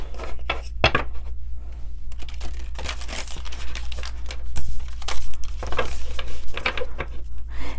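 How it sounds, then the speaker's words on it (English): A Star Seed Oracle card deck being shuffled by hand, close crinkly rustles and soft card slaps in irregular bursts over a low steady hum, with no talking. "Let me do a quick shuffle."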